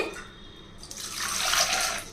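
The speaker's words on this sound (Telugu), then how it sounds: "ఇప్పుడు చింతపండుకు సరిపడా నీళ్లు పోసుకోవాలి" Water pours from a vessel onto tamarind in a kitchen bowl for pepper rasam, a steady splashing rush that builds after a brief pause and runs to the end, close and without talk.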